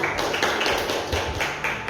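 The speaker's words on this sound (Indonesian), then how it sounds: "kita beri tepuk tangan dulu untuk Lydia" Students in a classroom clap for a classmate during a microteaching lesson, a short, dense patter of many hands close by, fairly even in loudness.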